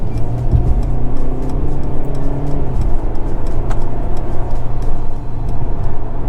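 A 2022 Mercedes-Benz CLS 220d diesel engine pulls hard from inside the cabin as the car accelerates to overtake, a steady loud drone under road and wind noise.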